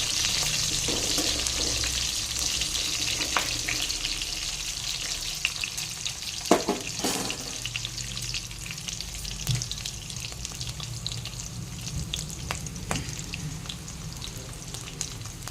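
Paneer fries lightly in a pan with a steady, close sizzle and crackle that holds throughout, with a few sharper pops along the way and no voices.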